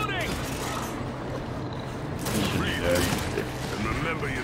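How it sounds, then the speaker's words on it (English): Weapon reload in Gears 5 on Master difficulty in the mines: mechanical clicks and ratcheting over a continuous din of distant gunfire, with voices talking over it. "I'm reloading"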